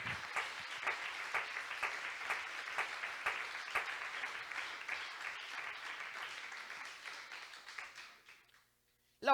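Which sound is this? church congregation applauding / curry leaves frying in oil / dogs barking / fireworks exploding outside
church congregation applauding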